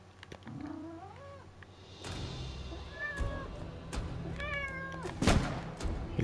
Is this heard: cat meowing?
yes